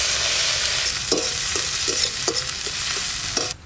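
Grated onion frying in oil in a kadai, a loud continuous sizzle with a spoon scraping and stirring at a loose, repeated rhythm, no talk.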